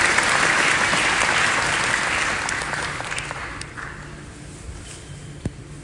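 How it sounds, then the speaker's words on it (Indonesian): An audience at an Islamic religious gathering in Korea breaks into loud, dense applause that gradually fades over several seconds into a few scattered claps and shuffles. "Tepuk tangan buat Indonesia."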